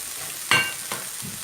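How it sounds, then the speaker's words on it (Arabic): Button mushrooms sizzling in butter in a pan for a fish and seafood pastilla, a steady soft fry with faint crackles and a couple of light stirring scrapes, close and alone. "غنديرو الشامبينيون حتى هو يتشحر"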